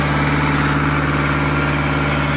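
A Kubota MU4501 tractor engine runs steadily at raised revs, a loud close diesel drone with a strong constant hum and vibration throughout, without voices.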